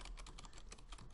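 Fast, steady key clicks from someone typing registration details on a computer keyboard during software setup, close and fairly quiet with no talking over them.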